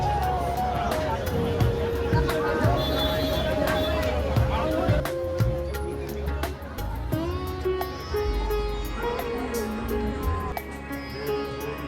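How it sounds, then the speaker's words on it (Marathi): Saturday-night crowd at the Swami Samarth temple in Akkalkot, with stalls nearby: a dense, continuous hubbub of many voices and bustle, fairly close and steady throughout, with some louder nearby talk and scattered clatter. "आज सॅटर्डे आहे त्याच्यामुळे गर्दी खूप जास्त आहे"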